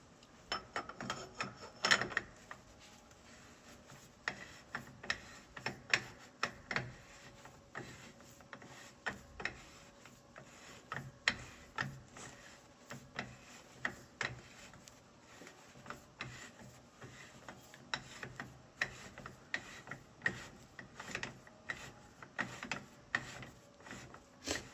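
A socket ratchet turns a bolt by hand, producing a long run of quick, faint clicking ticks in irregular bursts, close by, with no talk.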